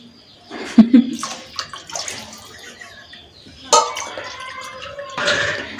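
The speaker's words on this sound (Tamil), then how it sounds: "இப்போ வந்து நம்ம அரிசி ஊற வச்ச தண்ணியும் சேர்த்துக்கலாம்" Short bursts of rice-soaking water sloshing and pouring into a cooking pot, with splashes and a sharp clank partway through, separated by brief quiet gaps.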